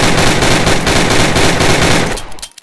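Assault rifle gunfire in a VR gun video game: a loud, continuous rapid-fire burst of shots lasting about two seconds, then cutting off abruptly into a short fading tail.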